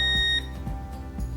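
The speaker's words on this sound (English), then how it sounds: "So we get a beep, same code." An appliance with a door-locked error gives a single short electronic beep when its start button is pressed, close and clear over a low background hum.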